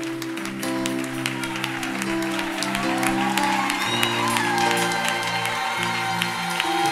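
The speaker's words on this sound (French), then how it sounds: "J'aimerais qu'on acclame le Seigneur pour mon épouse" A church congregation applauds and acclaims the Lord, with steady clapping and some cheering under sustained organ or keyboard chords, moderately loud and continuous.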